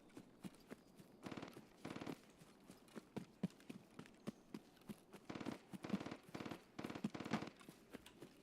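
Distant gunfire from PMCs near the bunker in the video game Escape From Tarkov: faint, scattered bursts of shots crackle in irregular clusters, heard alone without talk.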